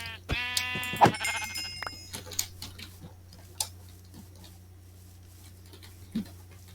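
Sheep bleat a couple of times near the start amid sparse ticking and clicking game sounds, followed by quieter scattered effects; no voices.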